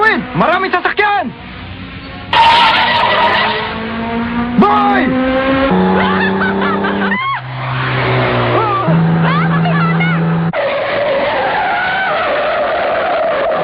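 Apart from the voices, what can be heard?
car skidding and hitting a person, drama sound effect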